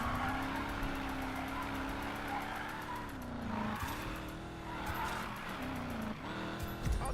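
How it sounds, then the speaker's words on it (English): A car drifts in the racing game Need for Speed Payback, with a continuous engine drone that dips and rises in pitch as the tires squeal through the slide. "Don't lose this drift"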